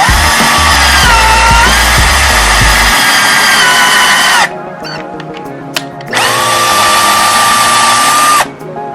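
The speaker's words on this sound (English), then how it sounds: "So you pre-drill your hole. I guess I'll just show you real quick. Pre-drill the hole." A power drill whines loudly and steadily close by, pre-drilling a hole in wood, pauses briefly, then spins up again for a second long burst.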